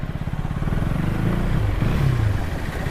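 A motorcycle engine rumbles close by as a ride gets underway, running steadily with a throaty pulsing note that swells slightly in the middle.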